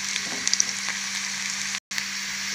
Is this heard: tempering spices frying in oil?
yes